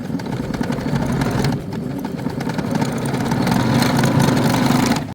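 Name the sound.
sewing machine stitching lace border onto kurti sleeve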